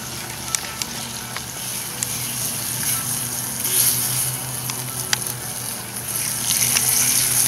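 Bacon fries in a pan with a continuous close sizzle and scattered sharp pops and crackles, holding steady throughout.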